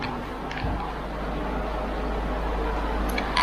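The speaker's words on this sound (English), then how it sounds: "excuse the noise, the extractor's on." Extractor fan running steadily in a spray booth during clear coating of a fat tyre flyer e-bike, a continuous close broadband whoosh with a low hum and no talking.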